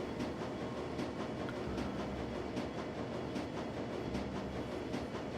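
In the video game Shadowrun: Dragonfall, a train rumbles steadily with a low, dense drone, faint rhythmic clacking and a soft hiss running evenly throughout.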